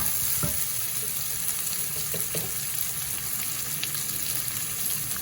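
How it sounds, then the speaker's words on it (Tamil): Onions and masala for paneer butter masala frying in oil, a steady close sizzle running throughout with a few soft spoon scrapes and taps as it is stirred, no voices. "எண்ணெயை போட்டு வடிவாக கிளறி போட்டு"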